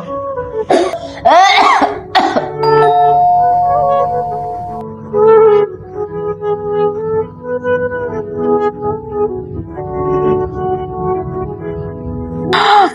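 A person coughs in several hoarse bursts at the start and again near the end, lying close by while feverish with illness, over a steady background of indoor music tones.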